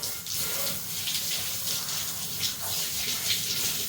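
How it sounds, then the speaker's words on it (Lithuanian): Water being pumped and running, a steady close rushing and splashing flow like a tap filling a basin, continuous and fairly even for several seconds, with no one talking over it. "pumpuoju vandenį blogai"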